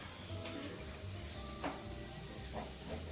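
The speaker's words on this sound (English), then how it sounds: "We're going to let that saute for about 4 minutes until it's nice and caramelized and brown." Food sautés in a pan with a faint, steady sizzle and a few soft stirring scrapes.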